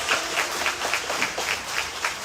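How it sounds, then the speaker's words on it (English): An audience at a Port Arthur candidate event claps in a steady round of applause, moderately loud and even in rhythm, with no voices over it. "Round of applause."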